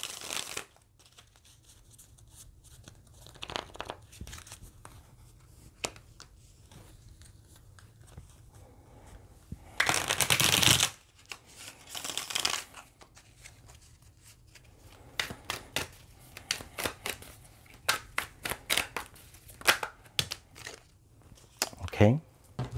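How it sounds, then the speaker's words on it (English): Tarot cards being shuffled and handled, with soft riffling, crinkling and snapping bursts that come and go, including a louder rush of shuffling midway and quick flicks near the end, under occasional speech. "Let's pull some clarification cards here."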